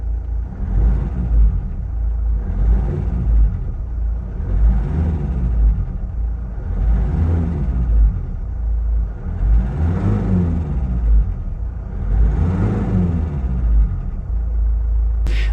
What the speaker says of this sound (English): this car has like a little bit of knocking or tapping noise or sound